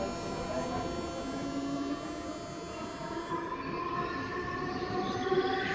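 A Santipur local train rolls along steadily from Sealdah, a continuous rumbling rail noise with sliding tonal whines and hum, near and even in level, with no distinct voices.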